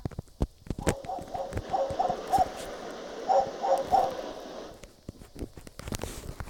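A dog in the Critical Ops shooter game barks in several short bursts amid sharp clicks and thuds. The barking is moderately close and stops near the end, leaving sparse clicks.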